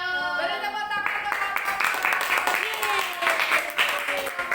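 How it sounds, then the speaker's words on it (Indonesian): A classroom group claps together during a maths lesson, a steady wash of applause mixed with overlapping voices and cheering after a brief spoken lead-in. "Beri tepuk tangan untuk"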